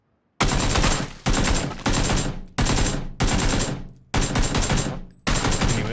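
Sustained automatic gunfire in PUBG, laid down in suppression as six long loud bursts, each split from the next by a short gap.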